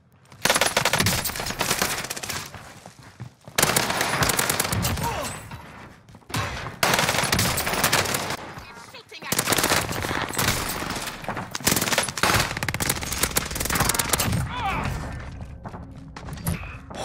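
Sustained automatic gunfire from an M4A1 in a Warzone match, loud bursts with brief pauses between volleys and a voice talking underneath at times.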